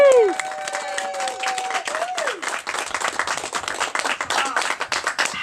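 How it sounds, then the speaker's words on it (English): An audience at a celebration for a feline rescue center in Yuba County breaks into steady, moderately loud applause that keeps going throughout, with a voice and some whistle-like tones rising over the clapping at the start. "They really deserve a round of applause."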